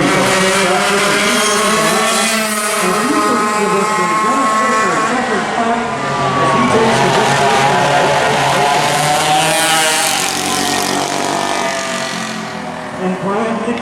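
Vintage open karts race in a Saturday qualifier at the Rock Island Grand Prix, their engines whining loudly and changing pitch continuously as a commentator talks over them.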